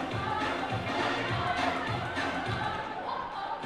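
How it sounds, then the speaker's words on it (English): Crowd noise at a girls' under-18 rugby match, Niue versus the Cook Islands at the Pasifika Youth Cup 2024, a steady roar of many voices with scattered thuds, loud and continuous throughout. "The crowd is very much involved and energised as we get into the latter stages here of the competition."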